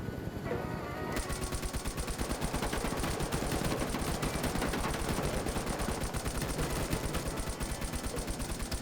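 An M60 machine gun fires long, sustained bursts in a Vietnam War video game, with loud rapid rhythmic reports running continuously without pause, close and dominant, with no talk over it.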